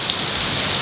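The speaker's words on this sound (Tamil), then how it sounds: "என்ன மழை!" Heavy rain falls at a beach resort, a dense, steady hiss of drops pounding surfaces in a brief, loud burst.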